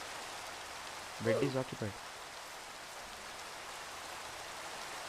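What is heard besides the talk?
rain in the video game Minecraft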